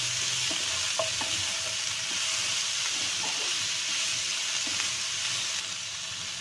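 Chopped cucumber sabzi, seasoned with salt and black pepper, is stirred in a hot pan under a dense, even hiss of frying, with a few light utensil taps near the start; no voices.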